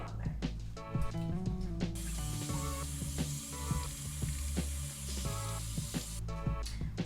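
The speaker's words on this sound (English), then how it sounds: "we gotta make sure to wash it. Always wash your veggies." Running water washes butter lettuce, hissing steadily up close while leaves rustle and tap in rapid irregular bursts; a voice briefly speaks over it.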